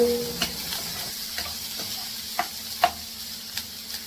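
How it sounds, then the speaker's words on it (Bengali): Whole green chillies fry in a pan with a soft, continuous sizzle, punctuated by occasional sharp taps and scrapes from a stirring utensil. "এইভাবে প্রথমে ভালো করে জিনিসটাকে ফ্রাই করে নিচ্ছি"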